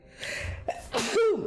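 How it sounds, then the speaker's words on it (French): A single sneeze with a sharp intake of breath before it, then a forceful burst, close and clear. "je vais éternuer"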